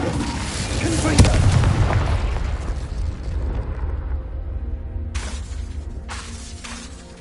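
A Confringo explosive spell from a Harry Potter video game erupts in a loud, close blast with a sharp crack, followed by a long rumbling decay and debris-like hiss, with a couple of brief later bursts and no talking.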